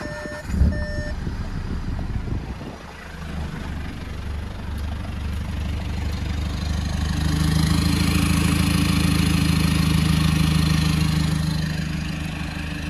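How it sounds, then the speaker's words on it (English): An uncorked TDI CR150 engine with an upgraded turbo, 64,000 miles and a resonator, idles with a steady, moderate diesel rumble. A few brief beeps and a clunk come at the start, and the rumble swells slightly partway through. "sound so you can hear what a uncorked TDI CR150 motor with an upgraded turbo sounds like"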